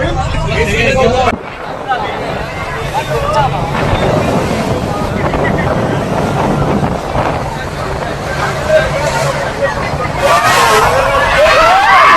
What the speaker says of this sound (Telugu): మనం ఇట్లా లైన్లో వెళ్ళి లోపలికి వెళ్ళబోయే బోట్ ఇదే చూడండి